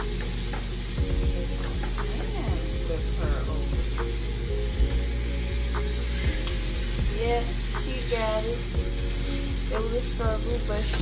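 Steaks frying in a pan, a continuous loud sizzle with crackles and occasional clinks of utensils, a voice briefly talking over it.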